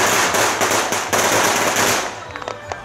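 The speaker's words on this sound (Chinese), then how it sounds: "来准备鞭炮" Firecrackers set off during a temple procession at the Xiaolong incense festival in Jiali, Tainan: a loud, close, rapid string of crackling bangs that runs for about two seconds and then thins out into a few scattered pops.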